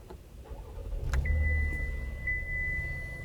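A car engine cranks and starts right after refueling at a gas station, a brief start burst settling into a steady idle with a thin warning-chime tone running alongside, heard alone with no talk.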